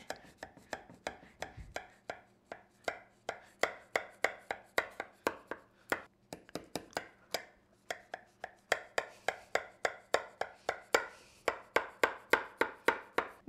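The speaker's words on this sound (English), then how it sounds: "So we're just gonna pre-cut the diamonds." Knife cutting through baked baklava layers of flaky phyllo into diamond shapes, a long run of crisp, evenly spaced crunching chops, close and loud, with no talking.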